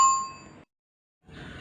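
Bright notification bell ding with a clear ringing tone that decays over about half a second, followed by silence and then a soft rustling noise.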